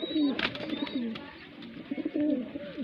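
A male Saharanpuri cross pigeon, bred from Moradabad stock, gives soft repeated throaty coos in short rhythmic bursts, close and fairly quiet, with a faint voice in the background.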